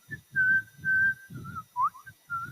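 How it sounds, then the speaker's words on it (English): A person whistles the Kill Bill theme, a clear melodic line of several sustained and bending notes, close and solo, with faint breathy accompaniment underneath. "I know the full Kill Bill whistle"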